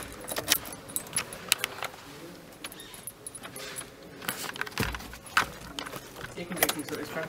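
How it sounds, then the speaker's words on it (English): Car keys jangling inside a 2016 Chevrolet Tavera: close, bright metallic jingles in uneven bursts throughout, with someone talking over them. "Put the keys over here."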